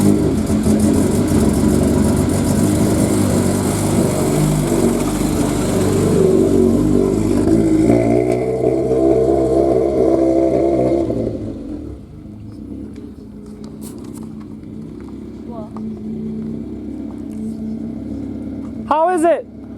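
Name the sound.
car driving on a test drive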